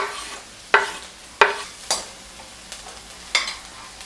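Onions frying in coconut oil for a dry cauliflower and peas bhaji, stirred with a spoon that scrapes the pan in several sharp strokes spaced about half a second to a second apart over a steady close sizzle.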